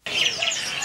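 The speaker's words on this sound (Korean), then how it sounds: "족자카르타의 명물 새시장에서 온갖 새들이 지저귀는 소리를 아낌없이 들었으니" Many birds chirp together at a bird market in Yogyakarta, Indonesia, a dense, bright twittering chorus that starts abruptly, is heard close and steady, and lasts under a second.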